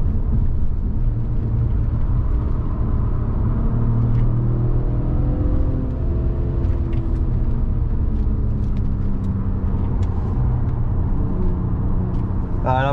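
An Audi A6 Quattro 3.2 FSI with 250,000 km on it driving a lap of the Nürburgring, its engine droning loudly and steadily from inside the cabin, pitch rising and falling with gear changes.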